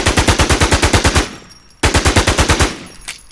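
Rapid machine gun bursts from a first-person shooter made in Eclipse Studio, two loud close strings of evenly spaced shots separated by a short pause, each burst trailing off.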